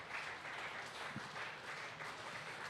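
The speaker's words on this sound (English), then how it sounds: "the crowd doing the right thing as well, clapping Warren off" Spectators at a 2015 Australian rules football semi-final applauding an injured player off the ground, a soft, steady, distant patter of clapping across an open field.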